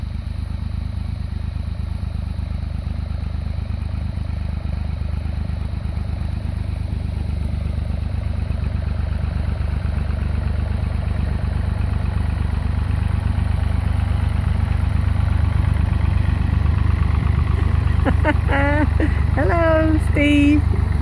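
A tractor towing a spring harrow across ground being broken for growing food runs with a steady, droning engine rumble throughout. Light clattering rises near the end.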